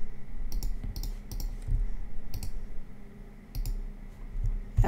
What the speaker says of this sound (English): I'm going to hit L again, hold Alt, and then I'm just going to click all the way through these.